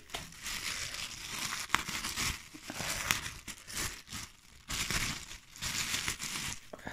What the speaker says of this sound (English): We poke holes to a plastic bag